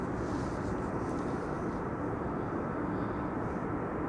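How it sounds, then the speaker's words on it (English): KLM Boeing 777-200 arriving at Amsterdam Schiphol from Johannesburg, heard as a steady, broadband jet rumble with no clear peaks, moderately distant and alone for about four seconds. "This is KLM flight 592 arriving from Johannesburg, South Africa. 777-200"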